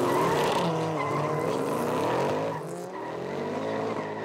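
Falken Tires Nissan S15 and 2005 Toyo Tires Ford Mustang drift cars at Formula Drift Houston, engines roaring loud and close as tires squeal and slide in a sustained wail that eases off toward the end.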